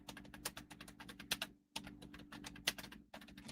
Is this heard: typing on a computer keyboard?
yes